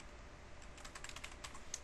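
Light keystrokes on a computer keyboard while entering a router's enable secret during Cisco device access configuration, soft quick clicks in an irregular burst, close but faint, with no talking.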